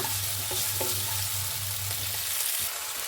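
Masala sizzles and fries in a pan for a rice dish while it is stirred, with a loud, continuous hiss and a few scraping strokes of the spoon.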